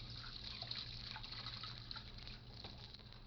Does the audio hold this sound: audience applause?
no